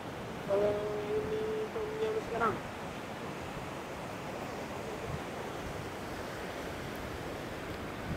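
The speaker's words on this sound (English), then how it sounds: "Let me just show you the beach here first." Ocean surf washing onto a long sandy beach at Sambava, Madagascar, heard as a steady broadband roar of breaking waves, with a faint tonal whistle or horn-like sound early on before the wash continues alone.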